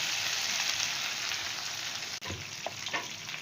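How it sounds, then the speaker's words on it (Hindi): Chicken fries in oil in a karahi, a loud, continuous dense sizzle broken by one brief dip and a few faint knocks of a spoon near the end. "ऑयल डालने के बाद हम इसकी अच्छी तरीके से भुनाई करेंगे"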